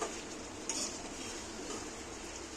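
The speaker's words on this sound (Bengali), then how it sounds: "অমনি নেড়ে নেড়ে কষানো হচ্ছে ভাজা ভাজা করে নেবো বিরিয়ানির জন্যে" Chicken for biryani is stirred and fried in a pot without added water, producing a quiet continuous sizzle with occasional scraping strokes of the spoon, no talk.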